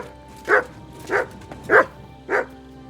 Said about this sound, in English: Good dog, Mutt